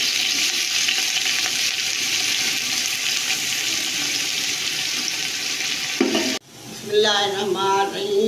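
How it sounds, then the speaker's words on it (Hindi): Onions frying in a hot pan for chicken pulao, a loud steady sizzle running unbroken for about six seconds before a sharp drop, then crackling and stirring sounds resume. "प्याज डाल रही हूँ।"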